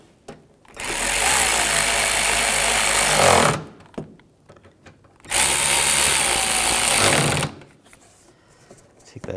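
A power tool driving screws on a 2006-2010 BMW 550i headlight: two long, loud, continuous whirring bursts of about three seconds each, separated by a short quiet gap.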